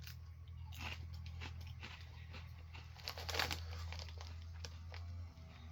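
Close, crisp crunching of lemonade-flavored Utz potato chips, several bites and chews with bag crinkling and one louder crunch near the middle, with no talking.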